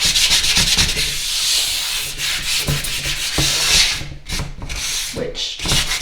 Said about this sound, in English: the last layer, sanding down